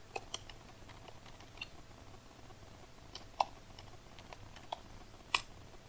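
A command typed on a computer keyboard, faint scattered key clicks with a few sharper taps over a quiet background hum.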